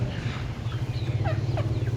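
Chickens brought in for sale cluck and squawk nearby in short, scattered calls over a steady low droning rumble.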